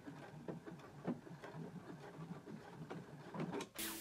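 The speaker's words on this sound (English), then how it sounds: "pin it right over it and then stitch along the edges of the tab" A sewing machine stitches along the edges of a fabric tab, its needle thumping in a steady close rhythm through the fabric, with a sharp burst of noise at the very end.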